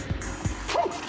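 A little dog gives a few quick, high yips and barks close by, two short ones followed by a brief whining yelp, in a noisy roadside setting with a moose nearby.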